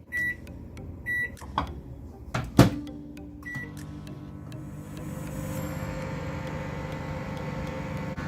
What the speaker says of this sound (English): This is ready to go into the microwave for 2 minutes.